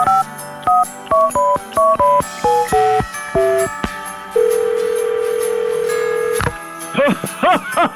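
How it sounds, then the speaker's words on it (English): A telephone being dialled on a radio call-in show: a quick run of distinct keypad tones, one long steady tone, then a short burst of warbling ring tones, loud and clear. "I wish that blessed Alex Belfield had stopped ringing me"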